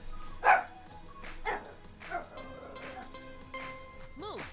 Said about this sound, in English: No dogs, please, no dogs.